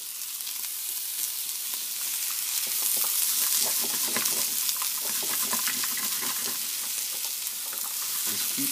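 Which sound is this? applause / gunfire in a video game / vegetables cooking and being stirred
vegetables cooking and being stirred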